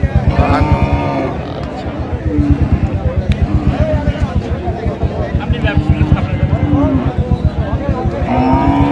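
Cattle moo loudly and repeatedly at a crowded cattle market in Cox's Bazar, where fattening cows are bought, with several calls rising over constant crowd chatter and nearby voices.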